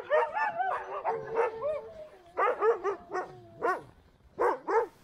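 Several sled dogs bark, yip and whine close by in a winter kennel play yard, in overlapping bursts with short pauses between them.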